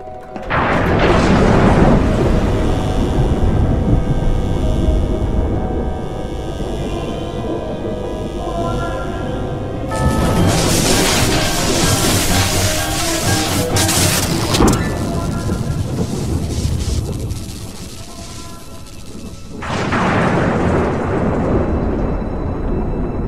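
Thunder rolls through a stormy night in the Garry's Mod Tower of Terror ride game, deep sustained rumbling with loud crashing peaks and rain-like hiss, filling the whole stretch at high volume with a voice speaking over parts of it.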